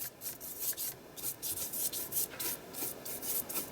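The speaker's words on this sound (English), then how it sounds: "He's scratching at the door to one of the bedrooms." A pet scratching at a wooden bedroom door indoors, quick repeated rasping strokes in uneven bursts, faint and close, with no voices.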